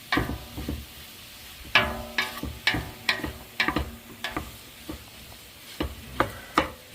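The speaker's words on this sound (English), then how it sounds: "all I do is heat it up and break apart the bacon" Bacon pieces heat in a pan while a utensil breaks them apart, giving sharp scraping taps at an irregular rhythm over a faint sizzle, close up, with no talking.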